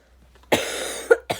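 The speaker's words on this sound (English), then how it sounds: "Sorry for my cough." A person gives one close, harsh cough followed by two shorter coughs in quick succession, alone with no talk.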